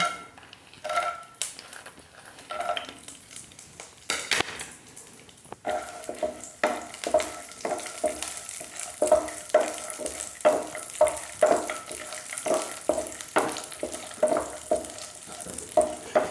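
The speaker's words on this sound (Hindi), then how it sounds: "तो घी गरम हो गया है तो इसमें ड्राई फ्रूट्स को भून लेंगे।" Dry fruits fry in hot ghee in a pan, a steady close sizzle broken by repeated scraping stirs of a spoon, growing busier after a brief quiet start.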